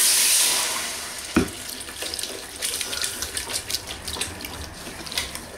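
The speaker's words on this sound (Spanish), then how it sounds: "Cuando todo está bien caliente, yo echo poco a poco, con cuidado, agua tibia." Warm water is poured little by little into a hot pan while a white sauce is being made. It gives a close, continuous trickling splash with small irregular spurts and one sharp knock near the start.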